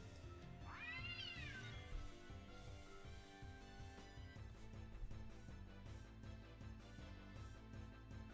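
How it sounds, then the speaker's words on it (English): A cat lets out one rising, wavering meow over a quiet musical background in Final Fantasy IX, then only the music continues. "And there's that cat again."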